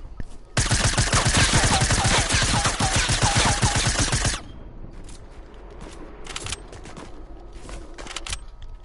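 Rapid automatic gunfire in a shooting video game, a loud continuous burst of shots for about four seconds, then sparser scattered shots and quieter in-game noise.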